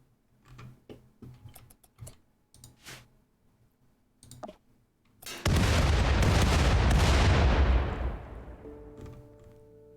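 Spaceship weapons fire in a space fight in the Space Piracy video game: faint scattered clicks and ticks, then a sudden loud roaring blast that holds for a few seconds and fades into a low hum.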